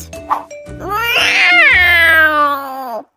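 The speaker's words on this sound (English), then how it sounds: "they were greeted by a big and ferocious cat." A big, ferocious cat in a children's story about a city mouse and a country mouse lets out a loud, drawn-out yowling meow, rising and wavering for about two seconds before it cuts off sharply.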